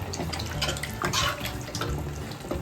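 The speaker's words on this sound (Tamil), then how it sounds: "அப்புறம் கொஞ்சம் தண்ணி ஊற்றிக்கலாம்" Water poured into a simmering goat intestine gravy, a steady close splashing and trickling flow that runs continuously for a few seconds with no talking.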